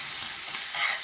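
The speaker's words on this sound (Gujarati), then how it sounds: "હવે એમાં લસણ મરચું આપણે વાટીને રાખ્યું છે તે ઉમેરી લઈએ અને સરસ મિક્સ કરી લઈએ" Crushed garlic and chili paste stirred into a sizzling pan of hot oil for methi thepla, a steady bright frying hiss with faint scraping as it is mixed, close and continuous.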